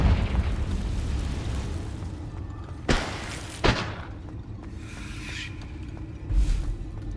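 Two sharp fiery blasts from the Confringo fire spell in the game Hogwarts Legacy, each a sudden broadband burst followed by a softer pop, over a steady low rumble with a later muffled thump.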